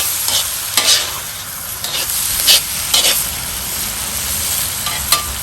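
Vegetables stir-fry in a Lodge wok over a Weber charcoal grill, a steady loud sizzle broken by repeated scraping clatters of the utensil against the cast iron every second or so.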